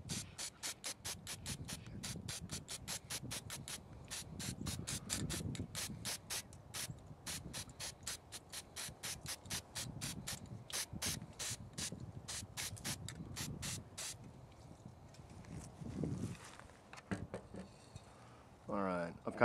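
Rust-Oleum hammered spray paint dusted from a distance onto a plastic box outdoors: a long series of short rapid rattling spray bursts, fairly faint, with someone talking quietly underneath and a gap near the end.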